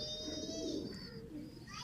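Soft low cooing from a chapra pigeon, a continuous throaty rolling call close by, with faint higher chirps from other birds in the background.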